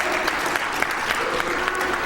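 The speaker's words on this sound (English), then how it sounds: "let's give a round of applause for Jaden here" An audience at a speedrunning marathon event claps for a player in a brief, dense burst of applause heard from within the crowd.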